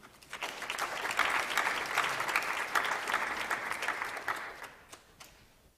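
An audience applauds steadily as the Cook County team is welcomed at a roundtable on obesity solutions, a dense wash of clapping that builds quickly, holds for several seconds, then thins out and fades.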